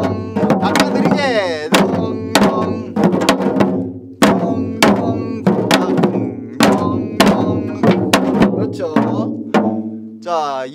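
Sharp janggu drum strokes of Korean traditional seoljanggu strike in a steady rhythmic pattern, deep booming hits alternating with crisp slaps, close and loud.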